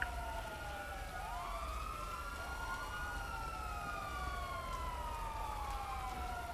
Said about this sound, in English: I'm gonna try and turn some of these sirens off.